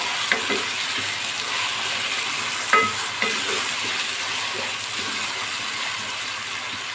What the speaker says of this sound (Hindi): अब यहाँ मैंने 4 छोटे टमाटर लिए थे जिन्हें मैंने क्यूब्स में काट लिए, ये मैं ऐड कर दूँगी